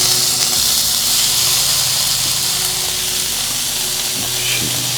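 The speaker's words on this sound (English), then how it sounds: "All right, let's get some bacon down." Bacon frying on a Halo Getaway griddle, a steady dense sizzle close by that holds loud and even through the whole stretch, with a faint low hum beneath and no talking.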